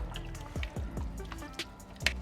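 Heavy cream is stirred into a thick sauce in a pan, giving a run of close, wet, squelching drips and soft sloshes at an uneven pace.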